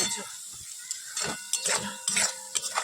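Onion masala with ginger, garlic and cumin paste being stirred in a pan, with irregular scraping and clinking strokes of a spoon against metal over a faint sizzle, close and uneven.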